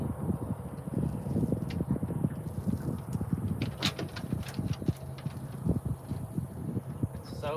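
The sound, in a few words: wind blowing outdoors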